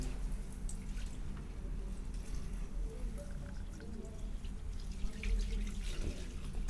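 Water gurgles and rushes steadily through a toilet drain freshly cleared of a concrete clog, with a continuous low, close wash of flow and a few faint drips and splashes on top.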